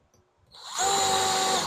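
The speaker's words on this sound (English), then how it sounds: "Drill it in, and then just kind of slowly work it." A power drill bores out a rivet on a car door of a Porsche Cayenne, VW Touareg or Audi Q7 during a window regulator repair, spinning up from quiet into a loud, steady high-pitched whine up close.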